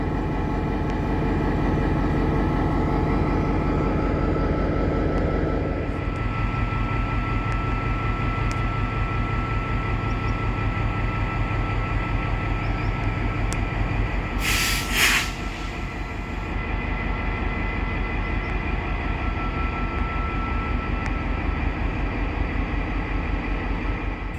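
White Pass and Yukon Railway locomotive in a red, white and black scheme at Skagway, its steady diesel rumble and rolling rail noise filling the scene, loud and continuous, with a brief hiss burst midway.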